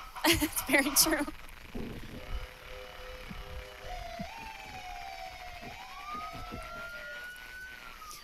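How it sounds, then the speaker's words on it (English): Valparaiso police car sirens wailing in a street parade at the Popcorn Fest, rising and falling tones sounding moderately near under cheering and a person talking. "those sirens are definitely pretty loud"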